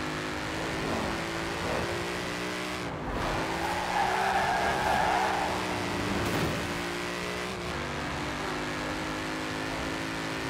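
Rear-wheel-drive car in Forza Horizon 4 accelerating hard with wheelspin, tires squealing over a revving engine that climbs through several gear changes; loud and continuous, with no talking.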